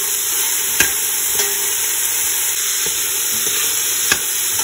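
Chopped onion, celery stalks and carrot sizzle steadily in hot oil in a pan, with a constant bright frying hiss and a few soft stirring knocks, close up and with no talking.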